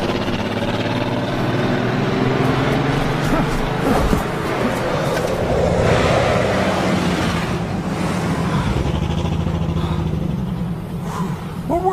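Car engines rumble and rev continuously as vehicles go by, a loud, sustained drone that swells and fades slightly over twelve seconds.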